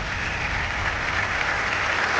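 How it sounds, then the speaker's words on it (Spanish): Audience applause at an evening event, a dense steady wash of clapping that holds at an even level throughout, with no voices standing out. "Os pido un aplauso para él desde Planet Caravan"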